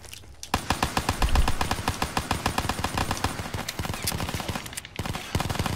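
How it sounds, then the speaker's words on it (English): Rapid pistol fire in a four-player co-op campaign shooter game, a fast run of sharp, evenly spaced shots that carries on almost without pause, loud and close. "Shoot my pistol so fast."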